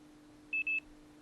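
A mobile phone found in the trash beeps as it powers on, two short, quiet high beeps over a steady low electrical hum.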